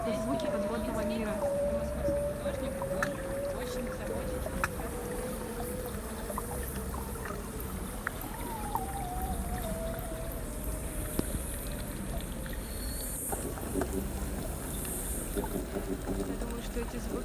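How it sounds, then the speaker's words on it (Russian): Underwater world sounds play through an art exhibition hall at the GES-2 contemporary art centre in Moscow: a steady watery wash with slow gliding tones, continuous and fairly loud, reverberating in the large space. "это звуки подводного мира."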